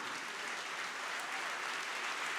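A church congregation applauds, a dense, steady wash of clapping from many hands that holds evenly for a couple of seconds, fairly distant and with no talk over it.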